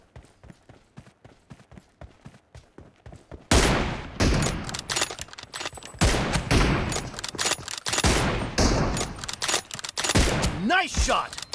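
Shooter video game gunfire with an M24 sniper rifle, starting as a quick rhythmic run of shots and turning into dense, loud bursts of firing with impacts and effects, mixed with in-game callouts.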